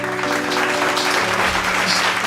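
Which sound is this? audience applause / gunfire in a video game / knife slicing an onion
audience applause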